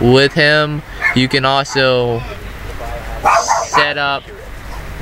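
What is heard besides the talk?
dog barking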